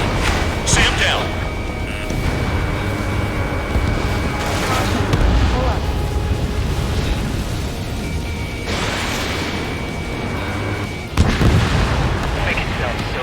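Anti-aircraft gun destroyed in Ace Combat 7, with booming explosions and rumbling fire under steady jet engine roar while radio voices talk.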